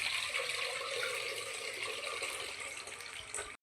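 Water poured off soaked, kneaded ration rice in a home kitchen, a steady splashing rush that runs for about three and a half seconds and then stops abruptly, close up with no talk.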